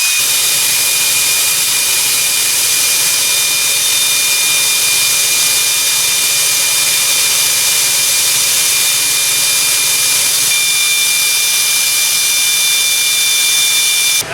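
A Pontiac 400 V8 idles steadily on a homemade engine run stand, a loud, continuous mechanical roar with a high whine, unchanging for the full stretch and with no voices.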